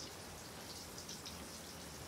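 Steady rain falls outdoors as a continuous, even hiss of drops at moderate level, with no voices, during home cooking with jengkol.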